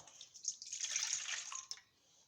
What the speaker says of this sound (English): first we're going to go ahead and pour in our warm milk.